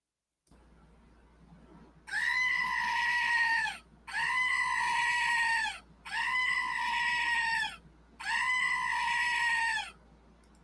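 Four loud, drawn-out goat bleats in steady succession, each roughly two seconds long with short gaps between, harsh and nasal against a quiet low hum.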